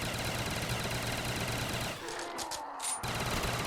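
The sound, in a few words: pistol gunfire in Call of the Dead video game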